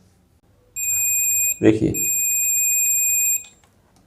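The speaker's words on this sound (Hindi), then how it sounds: "जब आप कंटिन्यूटी पे सेट करेंगे तो दोनों वायर को टच करने पे इसमें बीप का आवाज़ आएगा" A digital multimeter on continuity setting gives a steady, piercing electronic beep while its probes touch a fuse from a DTH satellite receiver power supply; the tone sounds for about three seconds, interrupted briefly as someone speaks over it.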